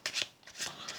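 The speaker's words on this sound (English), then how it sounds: "So you can just give it an overhand shuffle." Playing cards riffled in an overhand shuffle during a card trick, giving soft, quick papery rasps in a few short bursts, close and quiet with no voices.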